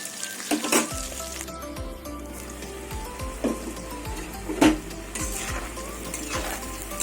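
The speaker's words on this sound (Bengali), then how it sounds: "এবার কলাগুলো ঢেকে ভেজে নেবো" Raw banana pieces fry in oil in a covered pan, a continuous close sizzle broken by light clinks and scrapes of a utensil against the pan, with no talk.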